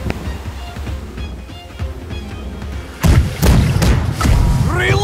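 Ship cannons fire in a naval video game battle: a low rumble of distant booms and thuds gives way to a louder burst of heavy cannon blasts, with splashing, crackling aftermath and occasional voices beneath.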